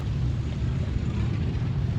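A 1950 tractor with a regular inline six-cylinder engine and big tire option runs steadily, a continuous low rumbling drone with outdoor wind noise and no talking.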